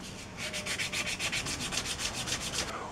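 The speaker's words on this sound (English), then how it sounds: "We've got the wheel all sanded down now with 320 grit" Steady rhythmic rasp of 320-grit sandpaper rubbed back and forth on a corroded aluminum wheel, about fifteen quick strokes at an even pace, close and clear.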